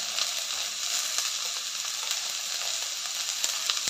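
Onion, garlic and cluster beans sizzle steadily in a hot pan with salt, a dense continuous crackle holding an even level throughout, with no voices.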